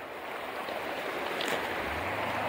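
Broad, steady rush of a small stream flowing into a larger river at a gold panning bar in Fairplay, Colorado, a continuous close water wash with no voices.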